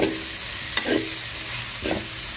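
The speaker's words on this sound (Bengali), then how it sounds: "দেখুন আমি পেঁয়াজ মরিচ ভালো করে কষিয়ে নিয়েছি" Onions and chillies sizzle in a pan with a steady frying hiss, broken by two or three short scraping stirs of a spoon.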